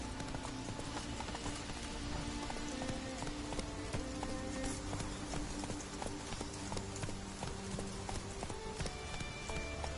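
Horse hooves clip-clop at a steady gallop in The Witcher 3, a continuous rhythmic drumming of hoofbeats over a rustling, rain-like game ambience, holding moderately loud for the whole stretch.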